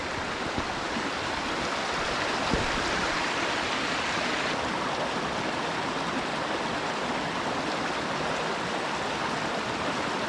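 A river stream at a trout fishing spot rushes steadily and loudly throughout, a dense unbroken wash of flowing water with no talk over it.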